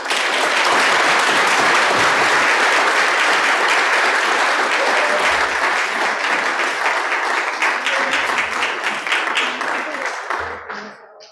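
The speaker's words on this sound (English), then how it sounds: "let's have a big round of applause for all our medal recipients." Loud, sustained applause from a crowd at a WWII veterans Congressional Gold Medal ceremony, dense clapping that fills the space and slowly fades out near the end.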